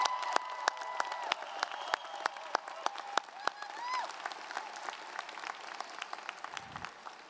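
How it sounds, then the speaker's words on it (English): Applause at a College of Social Work convocation ceremony, a thin spread of scattered claps from a large hall audience, fairly distant and gradually thinning out. "They all deserve our applause."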